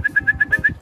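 A two-year-old racing hen pigeon comes back to its home loft in England after a national race from France. Six soft, even coos or whistling calls follow one another at a steady rhythm, close and clear, with no voices.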